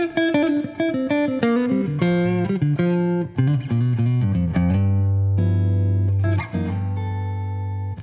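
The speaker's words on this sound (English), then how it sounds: "This is the Mixolydian scale." Jazz guitar runs up and down the Mixolydian scale in a steady stream of clean single notes, then settles into several long sustained tones, played alone with no talking.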